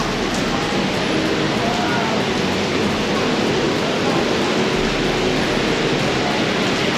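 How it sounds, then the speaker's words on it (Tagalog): Heavy rain pours steadily in a continuous broadband wash, loud and close, with no break across the span and no voices over it. "Ngayon, ang lakas ng ulan, oh."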